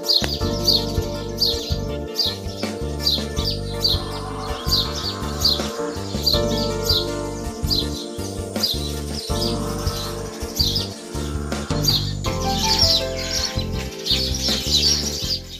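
House sparrows chirp around their nests inside a family home in Uttar Pradesh, India. Bright, repeated chirps run steadily throughout over a dense, tonal musical background.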